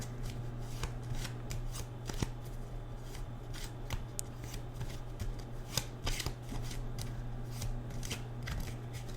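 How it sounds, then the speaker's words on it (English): Playing cards are shuffled repeatedly in quick riffling bursts, with soft flicks and taps over a steady low hum. "I'm just going to shuffle this way."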